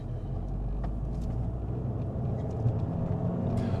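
A car engine in sport mode rumbles low and steady, building slightly as it accelerates, heard from nearby with no talking.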